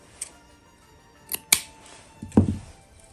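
Scissors snipping through a length of decorative craft material cut into two pieces for a home decoration, a few quiet separate clicks and snips followed by one fuller cut, close and alone with no talk.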